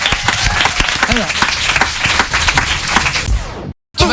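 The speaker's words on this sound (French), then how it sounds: "Merci, on va applaudir Maël" Studio audience on a radio show applauding a guest, dense steady clapping for about three and a half seconds before cutting off abruptly, with voices talking over it.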